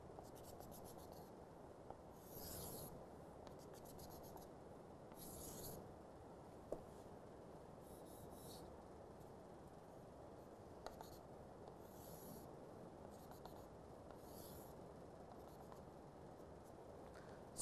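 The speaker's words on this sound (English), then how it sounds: "Let me just draw." Marker or pen drawing on a lecture board during a phase diagram lesson: quiet, close scratching strokes in short intermittent bursts over a low steady hiss, with no talking.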